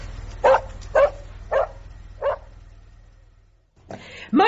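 A dog in a radio drama gives four separate, evenly spaced barks at close range, followed by a short pause and then another bark or yip, with a faint low hum underneath.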